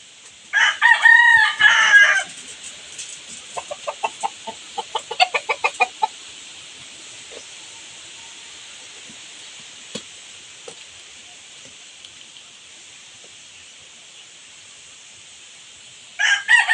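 Chickens at an organic farm's chicken housing: a rooster crows loudly up close, followed by a run of clucking and short calls, then quiet with faint background hum until another crow starts at the end.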